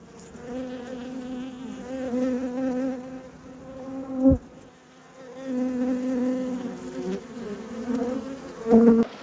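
Honey bees hum in a dense, steady drone around an opened backyard hive of fresh comb during an Australian beekeeping season, close and continuous, with a sharp knock near the middle and another near the end.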